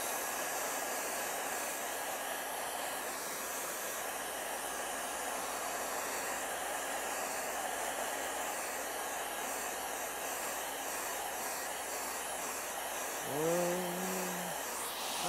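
A hair dryer blows steadily to dry freshly applied paint, a constant soft hiss and whir running for the whole stretch at moderate level, with a brief tonal blip near the end.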